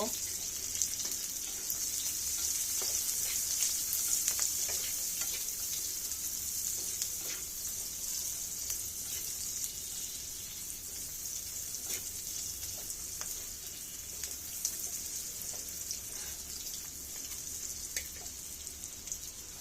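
Pumpkin frying in a pan with onion and chopped green chilli, a quiet, steady sizzle with faint scraping as it is stirred, no voices heard.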